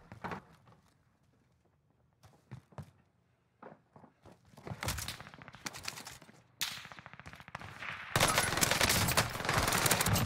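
PPSH submachine gun hipfire bursts in Warzone on Rebirth Island, loud rapid automatic fire building from scattered shots and footsteps into sustained, dense gunfire toward the end.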